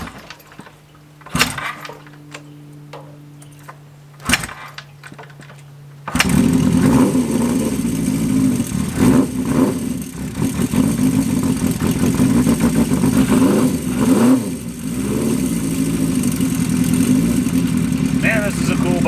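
A Honda CB400F cafe racer motorcycle gives a few sharp clicks, then its engine fires up and runs loud and close, rising and falling with throttle blips over a steady rumble.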